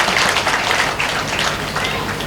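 An audience at a Murugan temple consecration festival debate bursts into applause, a brief, loud, dense patter of clapping hands heard alone.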